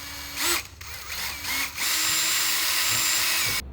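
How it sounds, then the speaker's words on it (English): A power drill with a 1/8-inch bit whirs in short bursts while drilling holes for a widebody kit on a Honda Integra Type-R DC2, then runs steadily for a couple of seconds before stopping abruptly, close by with no talking. "we're going to go ahead and drill a hole for it using a 1/8 inch drill bit"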